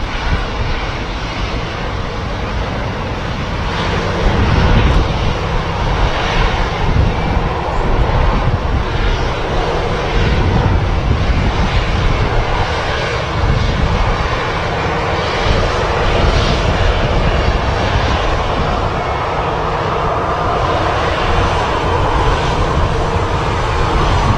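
Aircraft at Manchester Airport's runway, a loud, sustained engine roar that swells slightly and holds steady throughout, close and continuous.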